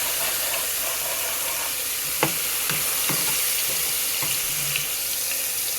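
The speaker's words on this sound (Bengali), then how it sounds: "কিছুক্ষণ ভেজে নিব।" Onion and garlic paste frying in a pan gives a constant close sizzle, with a few soft clicks of stirring scattered through and no talking.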